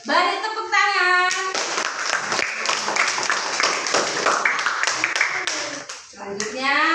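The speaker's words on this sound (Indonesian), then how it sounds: "Beri tepuk tangan." Classroom applause for students' good answers: a burst of many hands clapping fills most of the span, with children's voices at the start and end.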